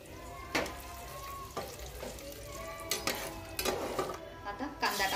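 Bay leaf and whole spices crackling in hot tempering oil with cumin, mustard seeds and asafoetida, a soft steady sizzle punctuated by several sharp spoon-on-pan clinks.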